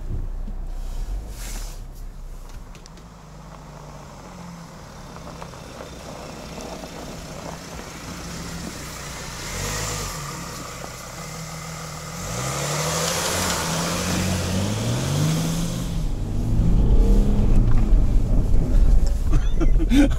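A car with a turbo drives and accelerates, engine tone rising and falling in several sweeps beneath wind noise and cabin rumble, growing louder toward the end.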